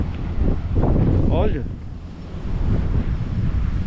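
Strong Zonda wind blowing dust around a motorhome, roaring as steady broadband rumble and buffeting on the microphone, with someone talking over it.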